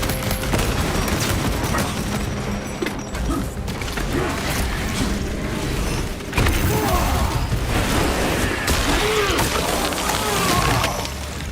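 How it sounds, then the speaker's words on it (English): Frag grenade blast amid sustained gunfire and clanking weapon mechanisms in the Space Marine 2 video game, a dense, loud, continuous battle din with a heavier burst partway through. "Frag grenade deployed!"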